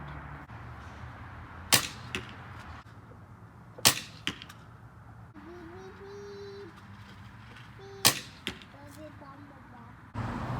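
A Barnett Assault recurve crossbow shooting 20-inch carbon arrows at 25 yards in a field test: three sharp snapping releases, each with a quick thwack, over quiet outdoor ambience with birds cooing and calling in the background.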